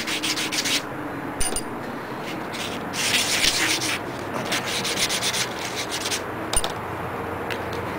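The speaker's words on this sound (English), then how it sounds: "Take the bolt, run around the sandpaper on the table here" A Mosin Nagant rifle bolt rubbed around on sandpaper laid on a table makes loud, rasping scrapes in repeated strokes, with a few brief knocks between passes.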